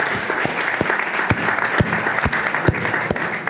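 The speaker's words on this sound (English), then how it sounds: "I think they all deserve a round of applause." Dense, steady applause from a conference audience for pitch presenters at the Maritime World Conference 2025, many hands clapping at once and sustained without a break.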